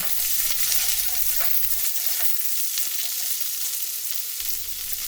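Steady, loud sizzling of bean pieces frying in hot mustard oil, with occasional stirring scrapes and crackles, no voices.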